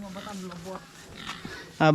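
A pig grunts and squeals nearby, mixed with a person talking, ending in a louder, sudden burst of sound.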